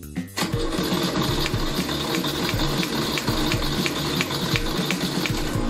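Renault 4L engine cranking on its starter during a compression test, a steady loud mechanical churn with rapid rhythmic pulses throughout, no engine catching, alone without talk.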